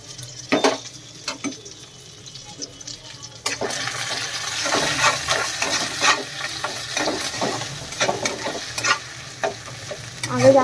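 Paneer frying in hot oil in a home kitchen, a steady sizzle with stirring and scraping clatter that grows louder and denser partway through, close and continuous with no talk.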